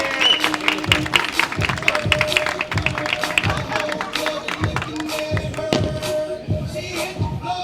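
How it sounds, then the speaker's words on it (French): A padel tournament crowd claps for player Clara Mansart, a steady, dense patter of many hands filling the venue, with an announcer's voice talking over the applause. "Vous allez pouvoir faire un tonnerre d'applaudissements, messieurs, dames, pour Clara Mansart,"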